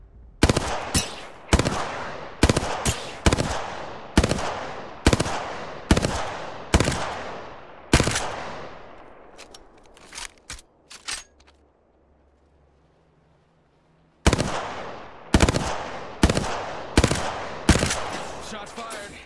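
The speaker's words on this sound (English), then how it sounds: "Shot fired." Rapid gunfire bursts from Apex Legends ring out loud and close in a steady rhythm of about a dozen sharp volleys, then give way to a few scattered shots and a quiet stretch before more bursts resume.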